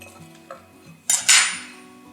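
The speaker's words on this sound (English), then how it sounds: "The best way to tell if they're cooked is really just to cut into one of them and have a look." A knife cuts into a freshly baked Irish brown bread scone, giving a short crisp crunch through the crust and a longer rasping slice just after, set against quiet kitchen background.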